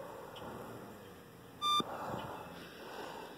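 An ultrasonic leak detector checks an R-410A refrigerant leak at a solder joint on an outdoor air-conditioning unit, giving one short, sharp electronic beep midway over a faint steady hum.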